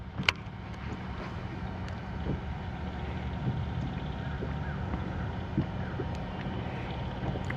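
Wind gusting over open water on Lake Guntersville during an August bass-fishing outing from a boat, a steady broadband rush with low rumble, no talking.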